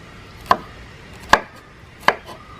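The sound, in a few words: chopping vegetables into one-inch pieces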